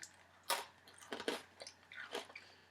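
Crunchy spent grain wheat biscuits being chewed close up, several distinct crisp crunches and bites in an irregular rhythm, quiet overall with no talking.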